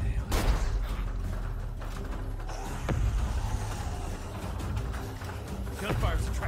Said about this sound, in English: Gunfire's attracted walkers.